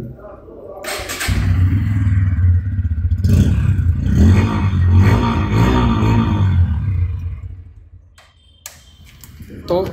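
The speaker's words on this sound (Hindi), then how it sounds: "अब एक बार सुना के इसका आपको एक बार स्टार्ट करके एग्जॉस्ट साउंड सुना देता हूँ।" A Bajaj Pulsar N160 motorcycle starts with a brief clatter and settles into a loud, steady idle from its exhaust, heard up close, then cuts off near the end; someone speaks Hindi before it starts.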